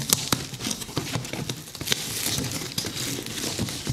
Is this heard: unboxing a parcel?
yes